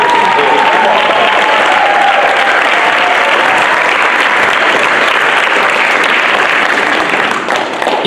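A large audience at an annual literary awards ceremony applauds loudly and continuously, a dense wash of clapping that holds steady for several seconds before easing slightly at the end.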